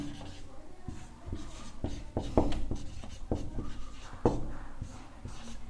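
A pen scratches across paper while a maths problem on a cone's slant height is written out. The strokes are close and fairly loud, coming in an uneven rhythm of short scrapes and taps, with no voice over them.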